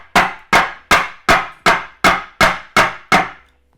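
Vegetables for a vegetarian cottage pie are smashed flat on a kitchen surface with eight loud, heavy thumps in a steady, evenly paced rhythm, each one ringing briefly and then dying away.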